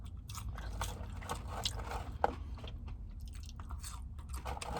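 Close, quiet crunching and chewing of crispy Raising Cane's french fries, with irregular bites and soft mouth scrapes, and no talking.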